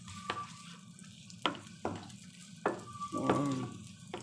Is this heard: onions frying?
yes